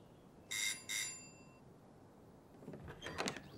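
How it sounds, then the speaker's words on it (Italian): Cartoon doorbell chime rings twice in quick succession, bright and clear, followed after a pause by quieter rustling and movement sounds. "Posso suonare il campanello, per favore?"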